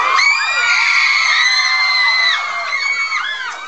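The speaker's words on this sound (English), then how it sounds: "I just noticed a lot of high-pitched screaming." An audience at a junior high school talent show screams in high, overlapping shrieks and whoops, loud and continuous, with no clear talking.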